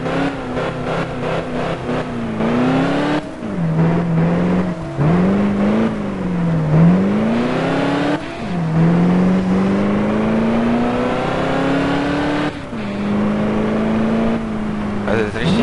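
A car engine in the Alarm für Cobra 11 Undercover video game revs up and down repeatedly, pitch swooping in loud close surges with brief gear-like drops between them, a voice talking over it.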